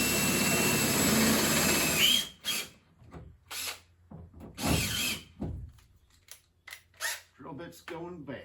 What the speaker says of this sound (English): Then I'm going to drill the holes